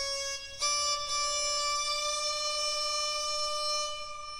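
A sarangi synth patch sustains a bright, harmonically rich bowed tone, with the round and snap settings disabled. It holds steady with small pitch shifts and a slight accent near the start, alone and without speech.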